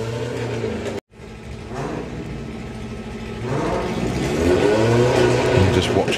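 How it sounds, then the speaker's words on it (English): VW Beetle drag race car launching at Santa Pod during Bug Jam eliminations, its engine rising from a steady drone into a loud, building rev with a brief dropout near the start. "Just watching Ethan's car leave the line."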